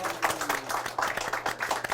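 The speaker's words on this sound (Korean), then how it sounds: "그래서 박수 좀 부탁드릴게요." An audience at a book forum author talk applauds, giving a short burst of fairly even, moderately loud clapping from many hands.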